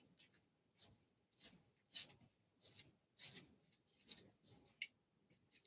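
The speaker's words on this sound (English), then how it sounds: "I typically rip the paper towards me" Paper is torn by hand in short crisp rips, about eight separate tearing bursts spaced roughly every half second to a second, close up and fairly quiet, with no one talking.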